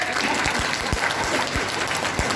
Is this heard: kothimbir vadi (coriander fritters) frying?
no